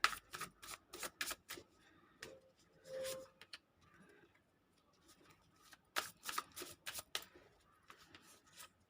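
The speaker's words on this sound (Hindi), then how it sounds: "मैं ज़्यादा कार्ड्स निकाल लेती हूँ कि ज़्यादा क्लियरिटी जो है आपको मैं अच्छे से दे सकूँ।" Tarot cards shuffled and drawn at close range: quick papery riffles and snaps in clustered bursts, with pauses between them.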